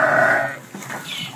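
A goat offered as a sacrificial animal, about a year old, gives a single short bleat up close, loud at first and trailing off, with a faint second call after it.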